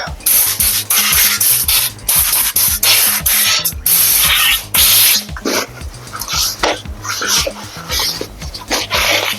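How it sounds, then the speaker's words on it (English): Compressed air blows dust off a part of a 2001 Dodge Ram 2500 truck in loud, close hissing blasts, repeated in about a dozen bursts of varying length with short gaps between them. "Blow this off real quick."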